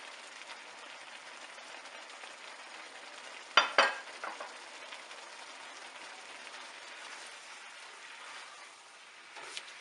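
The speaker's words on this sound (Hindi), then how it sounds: "मसाले डालकर हमने 7 से 8 मिनट तक भून लेना है।" Spices frying with paya (lamb trotters) in a pot, a steady close sizzle with a few sharp clinks of a spoon against the pot near the start, alone without talk.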